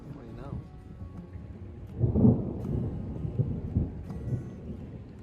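Thunder rumbles on a backpacking trail as a storm moves in with rain, a soft low roll swelling about two seconds in and fading slowly under steady background noise.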